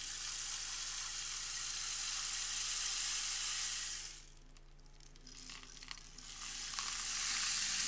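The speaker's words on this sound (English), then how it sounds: "Today I have with me a very cool tool that we use in meditation. It simulates a waterfall." A meditation waterfall simulator gives a steady rushing, water-like hiss that runs continuously, dips quieter for a couple of seconds midway, then swells back to full strength, with no voices.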